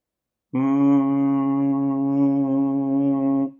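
A voice holds a steady, droning hum for about three seconds, imitating the deep blast of a conch shell.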